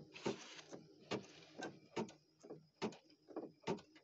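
A Baby Lock Flare embroidery machine begins stitching, producing a steady close-up series of mechanical thumps and clacks in a quick repeating rhythm.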